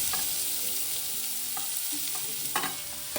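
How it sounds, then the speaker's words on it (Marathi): Grated carrots sizzle in hot ghee for carrot halwa, a continuous close hiss and crackle with occasional scraping stirs against the pan, no voices. "आपले इथे तूप गरम झालंय तर मी आपण किसलेले गाजर टाकते"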